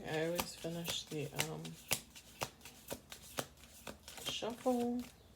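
Cards riffle and snap in quick repeated bursts of shuffling, close and crisp, while a voice speaks softly between the shuffles.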